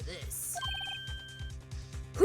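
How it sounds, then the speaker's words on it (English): A phone rings briefly in the video game Ace Attorney, a short electronic trill over a looping rhythmic game beat and assorted chimes and blips. "I heard a phone ring just now."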